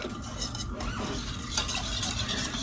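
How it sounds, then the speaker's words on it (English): A spoon stirs through a warm drink as a quarter cup of chocolate chips melts into it, giving a steady swirling and scraping sound with light clinks against the pot. No one speaks. "we're just going to stir this until it's all melted together"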